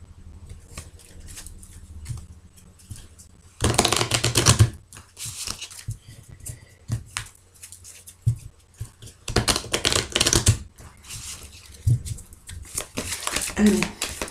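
Tarot cards shuffled by hand close up, with a quiet stretch giving way to repeated bursts of riffling and flicking, ragged and uneven, while a voice speaks at times between them.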